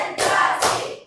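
A school class claps in a counted chant, giving loud, close, broad hand-clap bursts in quick succession with a third beginning just as the sound cuts off.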